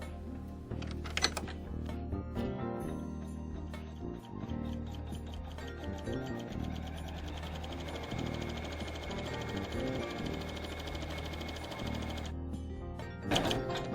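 An embroidery machine stitches a second pass around a design on fabric, a steady mechanical whirring and rapid needle chatter running continuously close by, with a couple of sharper clicks at the start and end.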